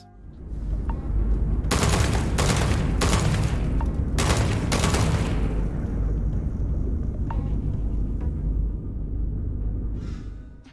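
Rapid bursts of high-powered weapon fire during a zero-gravity fight in Starfield, loud sustained automatic fusillades with a heavy rumbling low end, then a fading tail.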